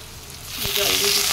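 Soybean chunks frying in a pan, giving a steady close sizzle that swells louder halfway through, with a brief tonal hiss on top and no talk.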